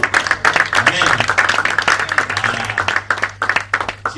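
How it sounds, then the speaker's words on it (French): A church congregation applauds in uneven, choppy bursts of clapping, loud and close, mixed with voices calling out throughout. "Est-ce qu'on va applaudir pour le Seigneur?"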